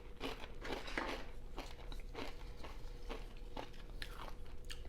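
Crunchy bites and chewing on a spicy chicken taquito with avocado cream cheese dip, a few sharp crackling crunches then softer mastication, close and fairly quiet with no talking.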